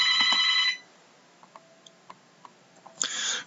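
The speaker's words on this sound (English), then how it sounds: "Pardon my phone ringing." A phone ringing with a short electronic ring burst, then quiet soft clicks, then another ring starting at the end.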